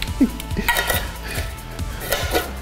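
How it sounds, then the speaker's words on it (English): Orange jungle juice punch is stirred in a container, with clinking and knocking of a utensil against the sides in quick irregular strokes, fairly loud and close. "Just get that nice little stir going."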